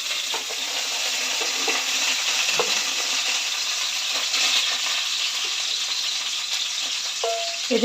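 Young jackfruit frying in oil in a pan, a steady close sizzle with light scraping and clinks of a utensil, no talking.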